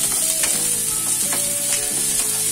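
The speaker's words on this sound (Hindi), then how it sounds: "ये मैंने रफली प्याज काट लिया, 2 बड़े प्याज है, इसे डालना है और इसे सॉटे करना है।" Two large chopped onions sautéing in a hot pan for matar paneer, giving a steady loud sizzle with scraping stir strokes at an irregular rhythm, no voices.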